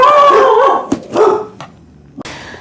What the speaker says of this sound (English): The dogs had to bark and tell me that somebody was coming.